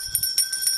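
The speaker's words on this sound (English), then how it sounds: "Hang on, it needs a bell." A bell rung for an anniversary, with a few quick metallic strikes ringing out in steady sustained tones and no talking.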